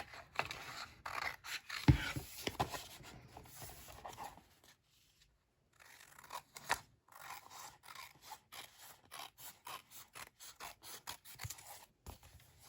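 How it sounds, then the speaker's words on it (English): Scissors cut through paper for a handmade scrapbook mini album in a run of quick, close, crisp snips, with a brief pause midway before the rhythmic cutting resumes. "So I'm just going in with some scissors and cutting off the rest."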